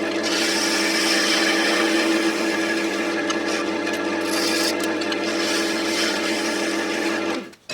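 A wood lathe hollowing the base of a wooden pencil pot, the tool scraping steadily against the spinning workpiece with a loud, continuous rasping hum up close, then cutting off abruptly at the end.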